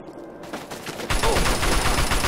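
Turrets open fire in Fallout 3, a dense, rapid stream of gunshots that starts softer and then jumps louder and stays sustained, like machine-gun bursts in a wartime trench setting.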